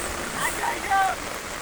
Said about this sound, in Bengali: বৃষ্টি আসতেছে সেই সময়